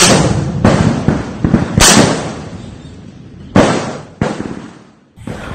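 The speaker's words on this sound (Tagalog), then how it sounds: "Aktual na video ito ng pakikipagpalitan ng putok ng tropa ng 2nd Infantry Battalion ng Philippine Army" Gunfire exchange between Philippine Army infantry troops and rebels in a rural village in Masbate: loud, irregular volleys of sharp cracks and bursts, some clustered, others spaced seconds apart, echoing in the open air.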